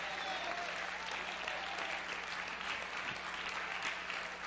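Church congregation applauding together, a steady dense wash of clapping that holds evenly throughout with no speech over it.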